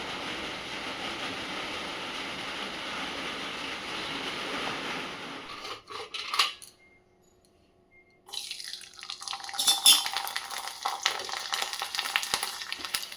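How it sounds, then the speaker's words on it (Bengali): Sago papad frying in oil in a pan, heard as a steady, close sizzling hiss that stops for a brief quiet moment and then returns as brighter crackling and popping. "সাবুর পাঁপড় ভাজা খাওয়া"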